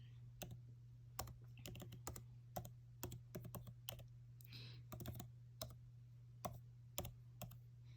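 Typing on a computer keyboard, with faint, sharp key clicks in an uneven rhythm of single taps and short clusters over a steady low electrical hum.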